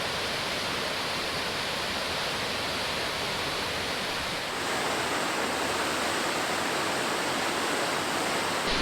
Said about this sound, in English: we made it to the middle falls here